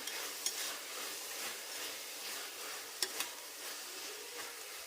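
Fenugreek greens fry in oil while being stirred, a soft sizzling hiss with periodic scraping swishes and a couple of sharp utensil clicks against the pan.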